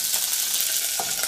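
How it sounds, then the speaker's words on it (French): Mushrooms fry in butter in a saucepan for a French chicken dish, giving a dense, even sizzle and hiss close up, with a faint stirring knock near the end and no talking. "maintenant, je vais pouvoir y mettre mes champignons et les faire revenir"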